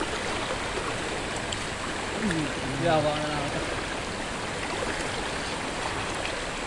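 River water streams and rushes steadily at a new fishing spot, a broad wash with a brief knocking, wobbling sound midway and a voice speaking briefly over it.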